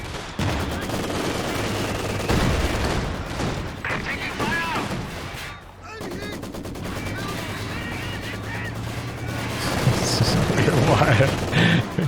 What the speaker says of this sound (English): Big old heavy mortar shell